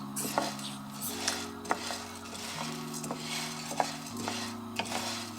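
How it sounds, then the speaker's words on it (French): Dry ingredients for a caffeine-free coffee-substitute drink are re-roasted in a frying pan, with a spoon scraping the pan roughly once a second over a steady background of sustained tones. "j'ai fait tout repasser à la poêle"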